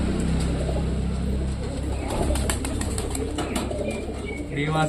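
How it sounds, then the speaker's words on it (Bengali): Pet pigeons coo softly at close range while wings flap in brief bursts, with a constant background hum and occasional voices. "আমি র্যান্ডামলি দেখি একটা পায়রা ধরি"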